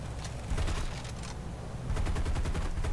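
Rapid bursts of machine gun fire from a B-17 side gunner in the combat flight game War Thunder, two loud rattling volleys close together.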